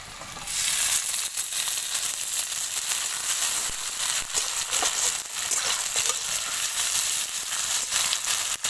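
Chopped onion and tomato hit hot oil with five-spice and a bay leaf for a spicy magur fish curry, giving a loud, steady, close sizzle that starts abruptly and crackles on without pause.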